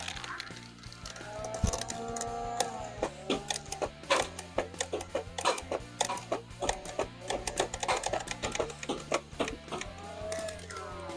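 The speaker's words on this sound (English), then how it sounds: "Now I'll show you firing. Starting off standard elite darts and in semi-automatic." Nerf Modulus Regulator blaster firing standard elite darts in semi-automatic, a whirring motor spin-up with rapid mechanical clacks and pops in irregular bursts, close and loud.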